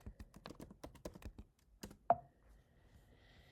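A run of quick, close keystrokes on a computer keyboard as a system password is typed into a macOS terminal, clicking steadily for about two seconds, then a single louder key tap followed by quiet.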